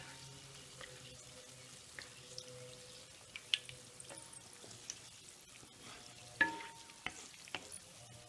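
Gulab jamun frying in ghee, a soft, low bubbling sizzle with scattered clinks and scrapes from a stirring spoon, fairly quiet and with no talk.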